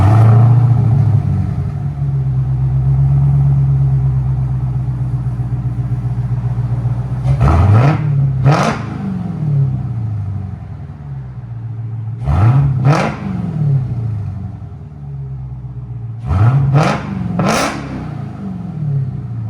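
A Dodge Hellcat Redeye fitted with Big Boz 4s mufflers idles with a deep, steady rumble, then its exhaust bursts into three sharp revs, each spiking loud and falling back to idle.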